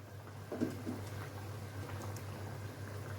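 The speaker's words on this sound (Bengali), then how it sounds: "ঝোলটা ফুটে গেছে এখন আমি দিয়ে দেব এই ডিমের টুকরোগুলো" Curry broth with ghee and garam masala bubbles at a low steady boil before pieces of rohu fish roe go in, a soft continuous simmer with faint liquid burbles.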